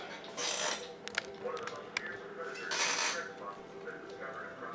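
Small plastic clicks and scrapes as a connector is pushed into the navigation-light socket of an MD500 scale RC helicopter, close up, with two sharp snaps amid soft handling noise.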